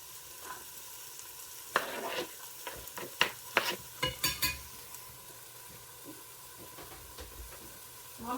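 Garlic sizzles faintly in a hot pan as several sharp stirring scrapes and clinks break through a soft, steady frying hiss, with no talking.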